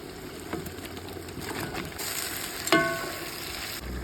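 Veal and onion fry in a pan for plov, a steady low sizzle with occasional stirring and one brief sharp clatter near the end, with no talking.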